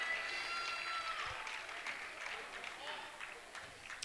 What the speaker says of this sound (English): Big round of applause, ovation from the crowd